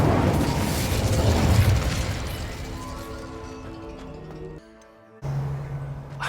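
A fiery Incendio spell cast in the Hogwarts Legacy video game bursts out in a loud, rushing roar that fades over several seconds into soft game music, ending with a brief hush before the music swells again.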